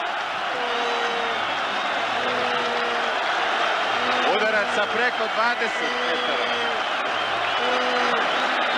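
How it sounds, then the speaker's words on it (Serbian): Partizan supporters in a stadium crowd roar and applaud after a goal in the Yugoslav Cup final, a steady distant wall of cheering beneath someone commentator's voice. "Slave sada navijači Partizana."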